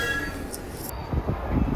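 Rumbling ride aboard a Tokyo commuter train heading toward Koenji, a steady low rail drone with faint clinks and rattles throughout, rising slightly in the second half.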